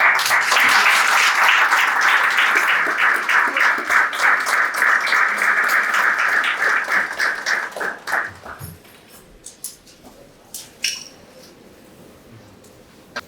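An audience at a young CEOs' business forum gives loud, sustained applause welcoming the chairman, a dense wash of clapping that thins into scattered claps over its last few seconds.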